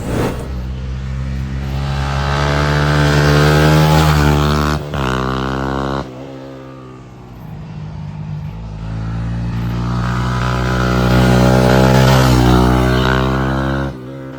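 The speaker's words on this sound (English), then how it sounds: "So let's begin with the 4-stroke bike." A 4-stroke 125cc motorcycle is ridden hard through a corner, its engine droning loud and close with rising and falling revs, a sudden drop on a gear change, then easing off before building up again.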